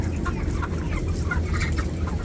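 A flock of 33-day-old broiler chickens on a poultry farm clucks in a dense, continuous chatter, many birds calling at once at close range with no talking.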